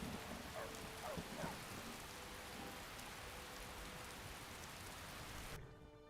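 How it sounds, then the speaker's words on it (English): Steady rain falls in the Skyrim video game, a dense even hiss of drops with faint low rumble, continuing alone before cutting off abruptly near the end. "This rain will stop eventually."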